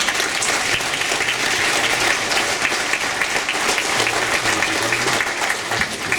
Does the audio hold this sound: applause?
yes